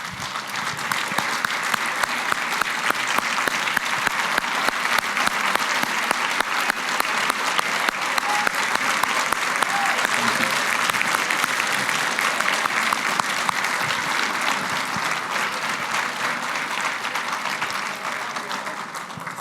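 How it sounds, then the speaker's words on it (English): A large banquet audience applauds the staff at an awards dinner, a dense, steady roar of clapping sustained for nearly twenty seconds with only faint crowd murmur beneath. "So please give a huge round of applause for the staff of Students for Liberty"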